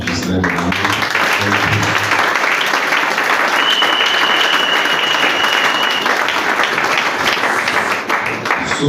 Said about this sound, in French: Est-ce que nous pouvons acclamer le révérend Ghislain?